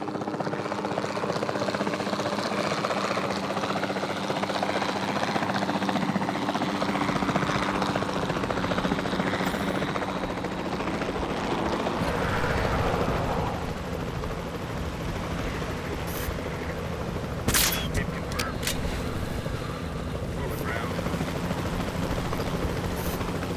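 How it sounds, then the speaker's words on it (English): Capture team helicopter in the game Jurassic World Evolution 2, a continuous close rotor and engine drone holding steady for over twenty seconds, with a few sharp clicks late on. "the sensible thing is to take a capture team helicopter"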